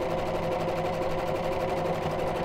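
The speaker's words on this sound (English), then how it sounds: "I might just use a straight stitch when I'm putting the elastic in." A sewing machine runs steadily with a fast, even whir, straight stitching elastic into bamboo towelling for a turban, heard alone and close.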